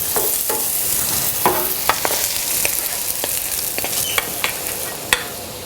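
Onions caramelize in a pan for a polenta casserole, a close steady sizzle broken by repeated scraping strokes and taps of a utensil stirring them.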